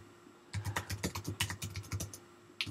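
Typing on a computer keyboard while entering WordPress page titles and keywords: a fast, steady patter of light key clicks, close and fairly quiet, with a slightly louder keystroke at the end.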